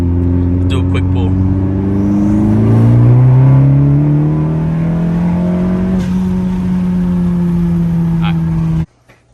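A 10th gen Honda Civic Si pulls hard from inside the cabin, its engine note rising loud and steady through the gears with a brief shift dip before cutting off.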